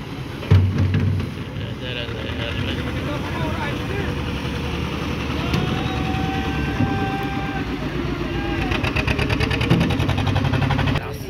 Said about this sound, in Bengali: বিরাট বড় ট্রলার দেখেন